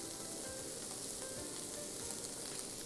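Cheese-stuffed green peppers wrapped in meat sear over high heat, giving off a dense, even sizzle that holds steady and close throughout, with no voices.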